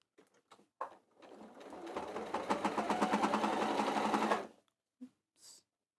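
A sewing machine double stitching a fabric bag: a few brief clicks, then a close, steady mechanical whirr of rapid needle strokes lasting about three and a half seconds. It stops abruptly and leaves short faint clicks afterward.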